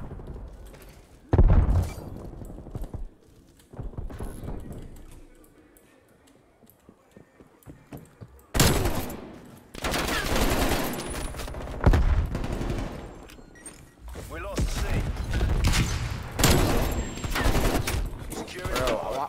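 Gunfire in a hardcore Call of Duty Cold War match comes in loud bursts of rapid shots and booms, with quieter gaps between them and voices over the game sound.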